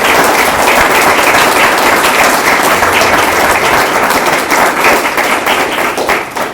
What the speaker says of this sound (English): I'd like you all to give them a round of applause.